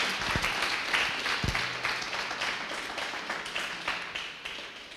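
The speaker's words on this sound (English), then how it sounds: "Please give this group a big round of applause" An audience at a student project showcase applauds, a steady wash of many hands clapping close by that gradually fades over several seconds, with a couple of dull knocks near the start.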